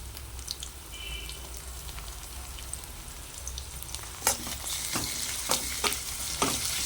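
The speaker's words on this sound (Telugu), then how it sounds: "అల్లం వెల్లిపాయ పేస్ట్ వేసి ఒక రెండు నిమిషాలు వేపుదిద్దాం" Steady sizzling of ginger-garlic paste frying in a hot pan for tomato rice, with a few sharp scraping stirs toward the end; no talking.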